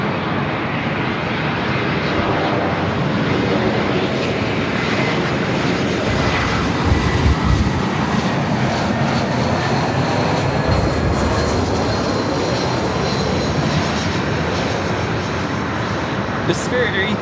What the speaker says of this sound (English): The Spirit A320 is coming in from San Jose, California, flight 2531.